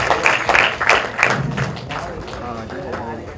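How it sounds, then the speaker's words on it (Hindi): Crowd clapping for actor Jimmy Sheirgill at the 2016 trailer launch of the film Shortcut Safaari, a burst of scattered claps in the first second and a half that thins out as voices carry on over a busy room. "जिमी शेरगिल साहब के लिए एक बार जोरदार ताली होनी चाहिए"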